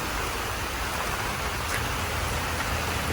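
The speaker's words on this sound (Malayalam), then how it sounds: "മഴ പെയ്തു മഴ പെയ്തു മഴ പെയ്തു" Rain falls steadily with a dense, even hiss that holds at the same level throughout, with no voices over it.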